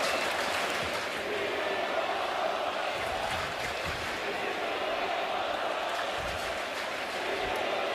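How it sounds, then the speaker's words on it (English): A large baseball crowd at Citi Field roars and jeers continuously, a dense, loud wash of many voices with scattered clapping, steady throughout with no single voice standing out. "Listen to the crowd last night at Citi Field basically mocking the team"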